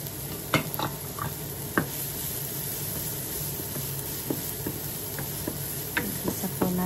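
White onion sautés in melted butter in a pan for tuna macaroni, a steady close hiss and sizzle broken by soft scattered pops and light stirring taps.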